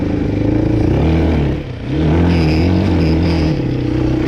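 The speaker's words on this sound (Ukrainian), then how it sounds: "Зараз зі старту беремо розгін на першій передачі." A Viper motorcycle revs hard in first gear while climbing a steep forest slope, its engine loud and close with rising harmonic whine, one brief dip around a shift in throttle before it pulls strongly again.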